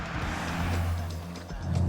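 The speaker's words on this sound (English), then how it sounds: "The engine certainly feels like it does its best work down low in the rev range" A Toyota GR Corolla hot hatch drives up steep mountain hills, its engine a steady, fairly loud low drone with a rough rumbling tone, heard continuously from inside or close to the car.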